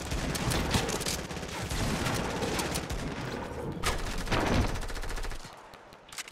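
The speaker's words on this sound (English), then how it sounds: "Oh, I'm about to get sniped, dude." Rapid bursts of sniper and automatic gunfire in the Fortnite video game crackle loudly and almost continuously, with dense overlapping shots before the firing cuts off near the end.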